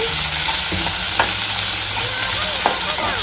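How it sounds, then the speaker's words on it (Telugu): Oil sizzles loudly and continuously as onions fry, with a few light scrapes of stirring in the pan and no talking. "ఇలా వేసి వీటిని దోరగా వేయించుకోవాలండి."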